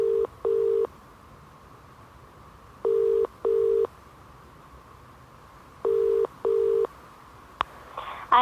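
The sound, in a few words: mobile phone call ringing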